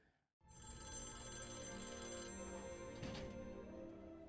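In a scene from the series Loki, a telephone rings loudly and steadily after a brief quiet moment. The electronic bell tone continues for several seconds with a faint knock partway through.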